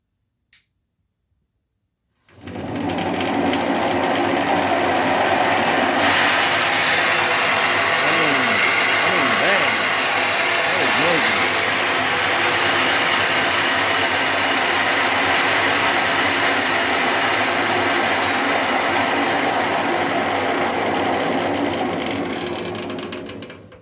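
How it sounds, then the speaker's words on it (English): An Allis-Chalmers garden tiller's small engine starts abruptly and runs loud and rattly at a steady idle for about twenty seconds, with a clattering mechanical chatter throughout. "This is a Allis-Chalmers tiller, but let me fire this thing up real quick."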